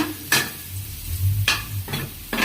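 Garlic dropped into a hot frying pan for a chicken curry, with faint sizzling and a few separate stirring or scraping strokes against the pan, heard close with no talking.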